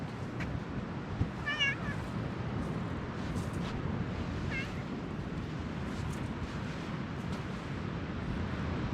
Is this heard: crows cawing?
no